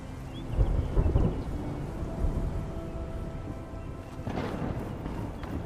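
A thunderstorm in the video game Horizon Forbidden West: deep rolling thunder rumbles swell and fade over steady rain, with a louder crash near the start and another building toward the end, no voices.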